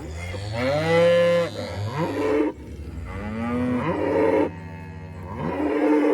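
Cattle being moved to a fresh paddock on a farm low loudly and close by, several long drawn-out moos following one another with short pauses, no talking over them.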